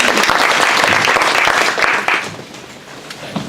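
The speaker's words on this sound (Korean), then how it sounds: "큰 박수로 맞이해 주시길 부탁드리겠습니다" An audience at a Korean internet forum event claps in a dense, steady burst of applause that fills the room, then thins out and fades toward the end.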